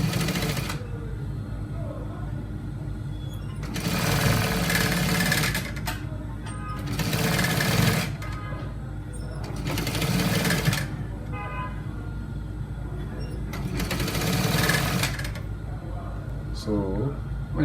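Sewing machine stitching a trouser pocket in several loud bursts of rapid whirring a couple of seconds each, separated by pauses with faint background noise and occasional talk.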